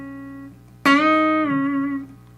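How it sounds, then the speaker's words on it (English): A single electric guitar note is picked and bent up a whole step, held, then released back down, clear and sustained, following a softer note before it, with no talking. "we're bending that up a whole step and back,"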